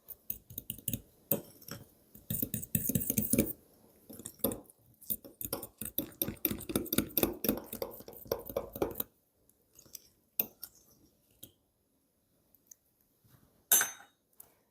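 A spoon clinks and scrapes against a mug while flour, baking powder, sugar and cinnamon are mixed for a microwave muffin, in irregular bursts of clicking taps with quiet pauses and one last sharp knock near the end.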